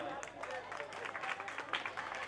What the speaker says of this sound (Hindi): आप इनका करतल ध्वनि से स्वागत करें, तालियों से स्वागत करें